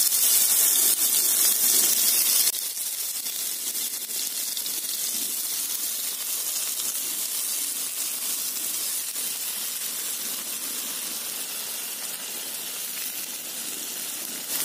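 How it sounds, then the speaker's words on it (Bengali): A loud burst of hissing as beaten egg hits a hot pan for a tomato omelette, settling into a steady, broad sizzle that continues close by. "এরপরে দিয়ে দেবো ডিমের গোলানিটা"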